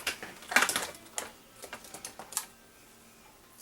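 Scissors snip through a mini Happy Planner page, a few close, crisp cutting clicks and paper rustles in a quiet room, spaced irregularly over a few seconds.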